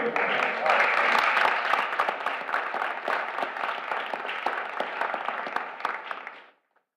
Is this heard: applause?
yes